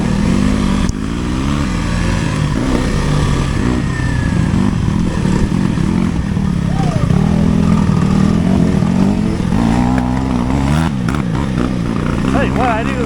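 A Kawasaki KLX300R four-stroke dirt bike engine idles and revs steadily nearby, a loud continuous burble with rising and falling revs under a voice speaking throughout.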